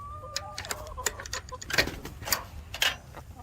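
Pet birds chirp and cheep in short scattered bursts nearby, with light clicks and rustling and no talking.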